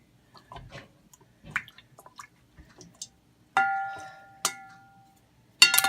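Rose petals stirred around in a pot of boiling water, giving scattered wet drips, squishes and soft clinks, with a few sharper splashy knocks near the end, close and fairly quiet.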